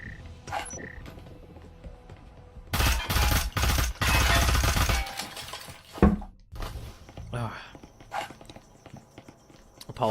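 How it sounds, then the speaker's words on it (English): A loud single bang from a cup being set down hard on a desk, cutting sharply through quieter game sounds of clip-clopping steps and distant shots. "you just heard very loud bang from me putting down my cup"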